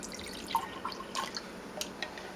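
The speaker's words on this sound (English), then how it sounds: "pour a little bit in the sampler cup" Mead being poured into a small sampler cup, a few soft splashy drips and trickles at close range, quiet and brief with no talk.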